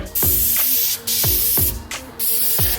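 An aerosol can spray-paints car windshield wipers in four short hissing bursts, each opened by the rattling click of the nozzle and separated by brief pauses, loud and close.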